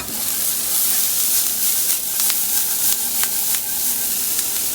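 Minced garlic frying in a hot pan while making fresh lasagne: a loud, continuous close sizzle with bright hissing, crackling pops and a few sharper spits, with no talking.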